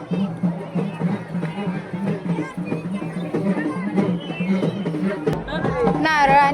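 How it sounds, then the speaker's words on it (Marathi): Dense crowd at a Khandoba village fair (jatra) in India, a steady hubbub of many overlapping voices close around, with a brief lull and then brighter, louder chatter near the end. "किती गर्दी आहे."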